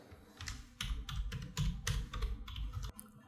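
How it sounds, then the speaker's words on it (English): Typing on a computer keyboard, a steady run of close, fairly loud key clicks in quick irregular bursts, heard alone without speech. "let's type subscribe."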